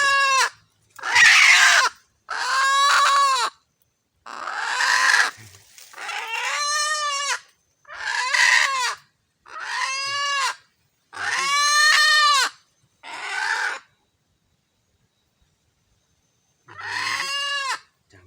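A red junglefowl rooster crows and clucks in a series of about ten loud, close, harmonic calls separated by short silences, with a long pause before the last call.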